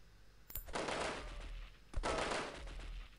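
Teammates' gunfire in the video game Delta Force: two loud bursts of rapid shots, each cracking in sharply and rolling on for about a second before the next volley, with no talk.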